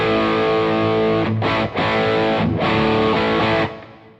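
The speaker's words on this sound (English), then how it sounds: "if I set all of the controls to the Boss Super Overdrive to about noon and" Thick overdriven electric guitar chords through a Boss Super Overdrive pedal, controls set to about noon, ring out sustained and loud, with a couple of brief breaks between strums before the last chord cuts off.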